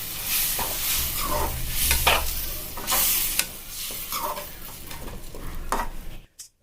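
Drumstick pod curry is stirred in a pan with a spoon, giving a strong sizzle and repeated scraping stirs over several seconds before the sound drops away at the end.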